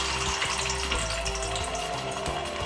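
Ginger paste sizzling in hot refined oil in a pan, a steady, close, bubbling hiss with faint crackles that carries on evenly throughout.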